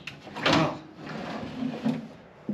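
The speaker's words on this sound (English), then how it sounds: "So full drawer." A large Norcold residential-style refrigerator drawer in a Columbus 32LV fifth-wheel RV slides open with a soft rolling rumble and then closes with a muted thump, close and quiet.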